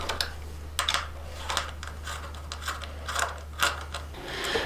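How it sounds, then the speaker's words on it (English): A 4mm Allen key backing out the single trim-piece bolt on a 2021 Aprilia Tuono/RSV4, heard as close, crisp clicking and scraping bursts in an irregular rhythm over a steady low hum. "We can now take our 4mm Allen key in order to remove this trim piece."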